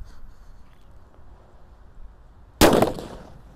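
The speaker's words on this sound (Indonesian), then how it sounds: "ini mercon yang paling banter namanya Colorful Sweater" A powerful Colorful Sweater firecracker, set off ahead of the 2024 New Year, bursts with a single sharp, loud bang after a quiet stretch, followed by a short decaying rumble.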